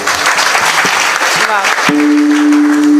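A kirtan audience claps loudly and steadily for the performers, a dense wash of applause throughout, with a sustained held tone from an accompanying instrument entering partway through.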